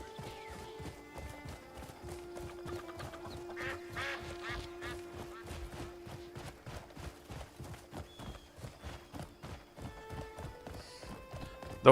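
Steady clip-clop of a horse's hooves in a video game, a regular walking rhythm near and fairly loud, with occasional game sound effects and no talk.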